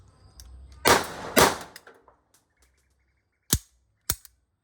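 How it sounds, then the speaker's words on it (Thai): Two loud sharp blank pistol shots crack close together, followed after a pause by two more short, sharp bangs with quiet between them. "ทดสอบบารลด้าเอห้าหกสองนัดครับ เสียงมันดังมากเลยนะบารลด้าเนี่ย"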